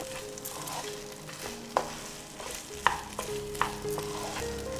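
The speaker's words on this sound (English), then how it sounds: "Into this, add in the cooked rice. Mix everything together." Cooked rice mixed in a pan for coconut rice, with soft sizzling under several sharp spatula knocks and scrapes against the pan, no voices.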